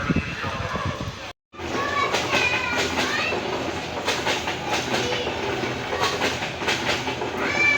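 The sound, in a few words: train slowly departing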